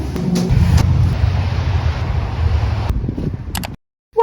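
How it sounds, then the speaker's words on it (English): Inside a moving car there is a steady low road and engine rumble with some wind noise, a few clicks, and an abrupt cut to silence near the end. "We are in the car again."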